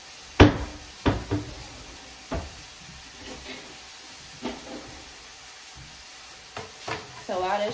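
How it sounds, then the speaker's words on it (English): Soft frying sizzle of hamburger steak in a pan, with intermittent clanks and scrapes of utensils stirring, close and fairly quiet. "so while that's frying"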